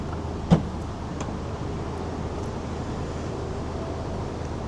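A sharp latch click is followed by a steady, low motorized whir as the power tailgate of a BMW X1 xDrive20i M Sport lifts open, with faint outdoor background noise.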